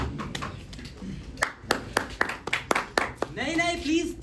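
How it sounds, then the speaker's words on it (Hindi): A few people clap in scattered, uneven bursts, sharp slaps spaced out rather than a full ovation, with voices speaking over them at the end. "नहीं नहीं प्लीज, तालियां नहीं।"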